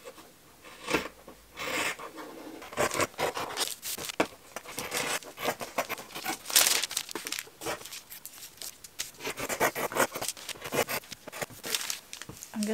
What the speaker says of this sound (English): Going to grab my fabric scissors and start cutting that.